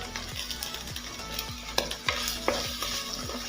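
Sukka masala being stirred into green mussels frying in a pan for Mangalorean pachile sukka: steady sizzle with repeated scraping stirs, close and clear, no talk.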